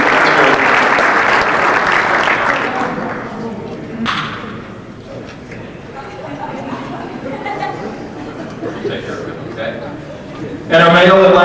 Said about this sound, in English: has her own cheering section